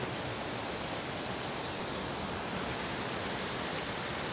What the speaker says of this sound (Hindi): इन दरख्तों के नीचे से पानी बह रहा है जी। अभी आप लोगों को इसकी थोड़ी थोड़ी आवाज़ आ रही होगी।